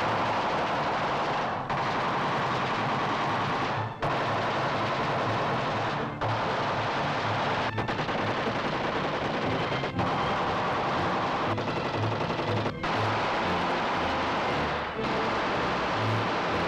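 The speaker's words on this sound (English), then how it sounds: "Now 600 shots a minute." A machine gun firing about 600 rounds a minute at an FBI range demonstration, loud sustained automatic bursts broken by brief pauses every couple of seconds, harsh and close throughout.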